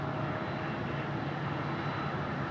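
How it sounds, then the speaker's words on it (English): A Boeing 737-800 jet airliner at Phoenix Sky Harbor airport produces a steady, moderately distant engine rumble and whine, holding an even level throughout without any talk. "737-800 from our friends in Minneapolis."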